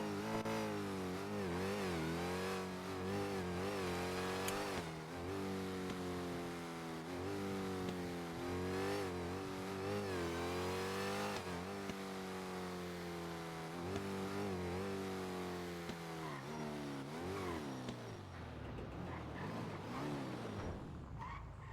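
Loud car engine in the GTA NoPixel role-play game, revving continuously with rising and falling pitch sweeps over about twenty seconds, dropping away toward the end; no talking.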